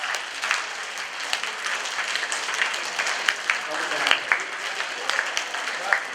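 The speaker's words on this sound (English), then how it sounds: "give me a big clap over your head. Let me see some claps." Crowd at a mentalist show claps with hands raised overhead, a thick steady roar of applause with sharper individual claps popping out, loud and sustained under faint talk.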